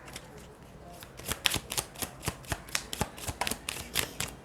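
Tarot cards shuffled by hand during a reading, a run of crisp riffling flicks and slaps in a steady, fairly quick rhythm, close and moderately loud with no talking.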